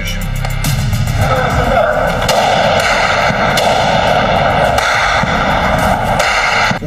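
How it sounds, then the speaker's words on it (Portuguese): Intense exchange of rifle fire between military police and drug traffickers in the Complexo da Penha, north zone of Rio, with loud, dense, continuous crackling bursts and booms running throughout. "Houve intensa troca de tiros."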